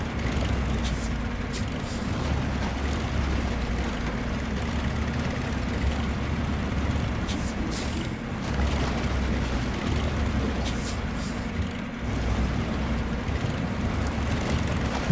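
A tractor engine in the Snowrunner video game labors steadily as it drives and turns through a muddy field, a continuous low rumble holding at an even level throughout with no voices.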